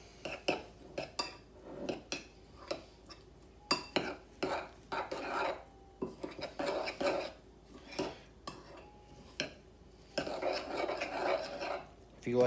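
Protein oatmeal being stirred with egg whites and ground cinnamon, giving a run of irregular close clinks and scrapes of a utensil against a bowl, some in quick clusters, separated by short quiet gaps.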